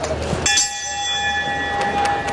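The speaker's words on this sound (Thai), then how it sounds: "สัญญาณระฆังความสนุกความดูเดือดนะครับ เริ่มต้นขึ้นแล้วครับ ยกแรกครับ" Muay Thai boxing ring bell at a Thai Fight event rings the start of the first round, a bright, sustained metallic ding that rings on clearly through the clip amid faint arena noise.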